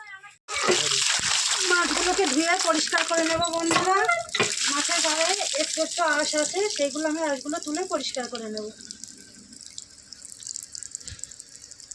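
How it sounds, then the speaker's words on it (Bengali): Tap water runs and splashes while cut fish are washed in a kitchen, with a voice talking over the flow for most of the time before the water continues alone and quieter near the end. "বন্ধুরা এবার আমি মাছগুলোকে ধুই নিয়ে আসবো"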